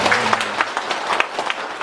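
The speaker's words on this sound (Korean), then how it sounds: "박수 한번 주세요." A short burst of audience clapping at a Buddhist ceremony led by a monk, fairly loud and close, with individual claps audible and a voice faintly underneath.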